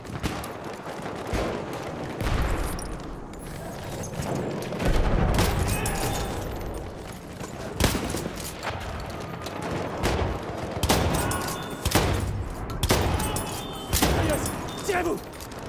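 Battlefield 1 multiplayer gunfire at Fort de Vaux: repeated sharp rifle and machine-gun bursts with occasional heavier thumps, some close and loud, others farther off, over a steady battle din with voices talking throughout.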